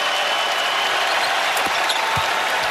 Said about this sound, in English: this young man deserves a round of applause.